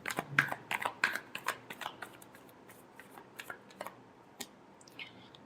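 Tarot cards being shuffled, a cluster of quick papery riffles and flicks up close, busiest at the start and thinning into sparse taps, with no voice over it.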